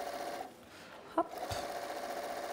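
A sewing machine stitches quilt pieces using the quilt-as-you-go method, its faint, steady mechanical hum broken once by a short, sharp clack near the middle.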